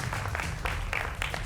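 Applause from a studio audience on a Hindi political TV debate show, a short dense burst of clapping that fills the room at moderate volume.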